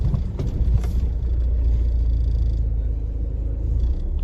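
A car drives along with passengers inside, steady low road rumble and engine drone filling the cabin while people talk quietly.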